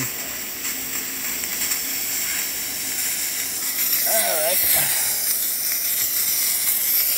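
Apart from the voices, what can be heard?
Delonghi Magnifica S espresso machine steam wand hissing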